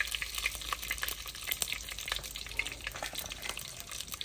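Mustard seeds, cumin, curry leaves and fenugreek seeds tempering in hot oil for kadhi on a wood-fired stove, giving a continuous close crackling sizzle with scattered pops and no talking.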